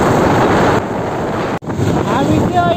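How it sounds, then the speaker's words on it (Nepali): The swollen Marsyangdi river in Nepal rushes during the monsoon, a loud, continuous close roar of churning water with a brief dropout midway. "यो चाहिँ मर्स्यान्डी खोला हो होइन। यो चाहिँ एकदम ठुलो ठुलो छ।"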